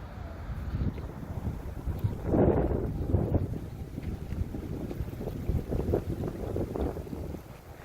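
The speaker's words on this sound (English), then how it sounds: "Wind's starting to pick up." Wind gusting outdoors at a movie ranch, a loud steady rush buffeting the microphone throughout, swelling briefly partway through.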